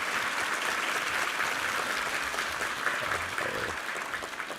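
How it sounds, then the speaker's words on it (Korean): A church congregation applauds together at a Sunday worship service after a prayer of blessing, a steady, dense wash of clapping that fills the room and holds for the whole stretch before easing slightly at the end. "우리 축복의 박수 한번 부탁합니다"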